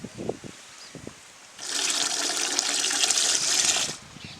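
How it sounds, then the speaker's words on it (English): Water is poured into a pot on a stove for sugar syrup. A steady gushing pour lasts about two and a half seconds, with a few faint knocks just before it. "Adding water."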